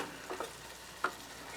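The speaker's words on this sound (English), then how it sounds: "It looks like the chutney is about done simmering" Soft, steady bubbling and faint sizzling from cranberry apple chutney simmering in a pan on the stove, with a few small pops, quiet and close.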